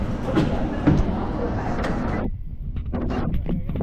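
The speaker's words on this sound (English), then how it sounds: "Now exiting Snowdon Metro Station" Metro train rumble at Snowdon station in Montreal, a loud, broad rolling roar that cuts off abruptly, leaving quieter station noise and faint clicks, with a voice speaking over it.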